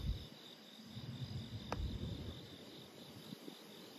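Many frogs call around a house before a thunderstorm, forming a faint, steady, continuous chorus of trilling calls with a low background rumble.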